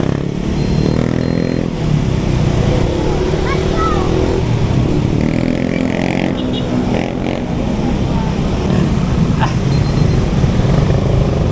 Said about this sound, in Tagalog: Bumabaha ng motor.